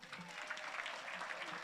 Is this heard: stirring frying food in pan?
no